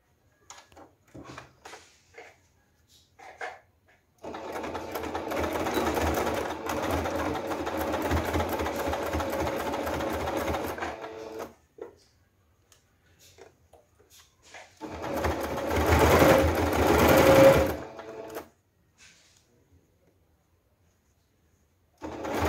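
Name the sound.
sewing machine stitching a crossbody bag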